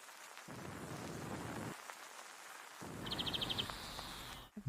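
Steady rain-like outdoor hiss with a brief high, rapid bird trill toward the end, fairly faint and distant.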